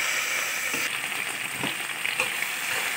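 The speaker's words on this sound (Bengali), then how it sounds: "এবার চিংড়ি মাছগুলো আমি হালকা করে ভেজে নেব, বেশি কড়া ভাজবো না।" Shrimp lightly frying in hot oil in a pan, a steady close hiss and sizzle with faint stirring bumps, running alone without voices.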